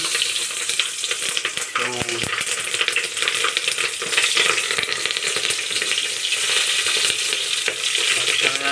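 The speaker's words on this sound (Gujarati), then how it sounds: "મરચા બધા તળી નાખે છે" Chillies sizzle and crackle steadily as they fry in hot oil, with a brief clink of a utensil partway through.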